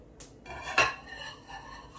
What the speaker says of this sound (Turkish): Şöyle bir yandan bulaşığı yerleştireyim.